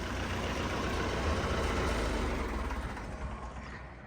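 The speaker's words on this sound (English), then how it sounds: "I'll shut this tractor off" A diesel tractor engine with wet liners idles with a steady, heavy low rumble, then winds down and falls quiet as it is shut off near the end.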